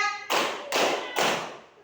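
A class of schoolchildren claps in unison three times in a counted rhythm. The claps are sharp, close and evenly spaced, each ringing out briefly before the next.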